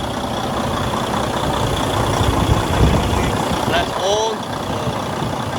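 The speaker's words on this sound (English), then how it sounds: "As you guys can hear, it started up right away." A Detroit DD15 diesel engine idles steadily just after a fuel pump install, a low, even rumble running throughout, with someone speaking briefly over it and a few faint squeaks near the end.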